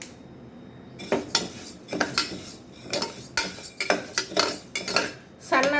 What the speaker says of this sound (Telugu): సన్న సెగ పెట్టుకుని వేయించుకోవాలి